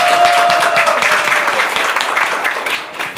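Audience applause for performers at a Christmas concert, a dense steady wash of clapping that holds loud throughout and tapers slightly at the end, with a faint tone at the start.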